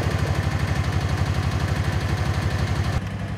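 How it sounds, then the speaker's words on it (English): The engine of a side-by-side UTV idles close by with a loud, steady, rhythmic chugging. It changes slightly near the end. "Now we're going to turn the engine on. Let's fire this bad boy up."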